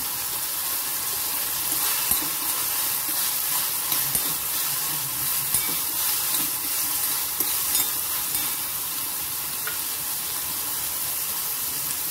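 Cumin seeds and garlic sizzling in hot oil in a pan for green pea chutney, a steady bright frying hiss with small crackles, close and fairly loud throughout.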